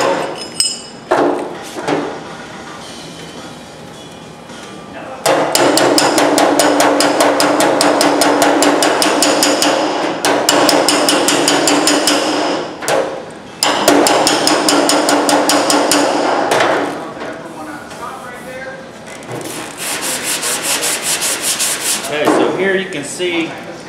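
Sheet metal is beaten with a slapping spoon near a ground-down weld, producing loud, rapid, evenly spaced metallic slaps in long bursts separated by short pauses.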